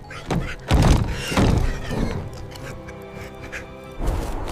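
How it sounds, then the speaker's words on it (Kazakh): Piglets in a three little pigs cartoon slam a door shut against a wolf: a heavy thunk and thud near the start, followed by a few softer knocks and rustles, then another dull bump at the end. "Торайлар есікті тарс жауып,"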